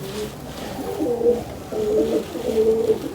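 A pigeon held in the hand coos repeatedly in soft, low throaty phrases, close by, with a quiet background and no talking.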